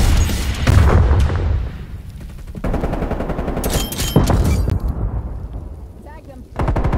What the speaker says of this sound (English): Grenade out. Throwing frag grenade.